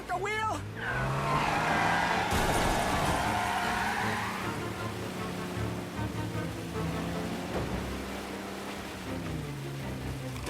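A car in Mafia Definitive Edition skids with loud tire squeal and a roaring engine, then crashes in a brief thud of impact, with game sound layered under it throughout.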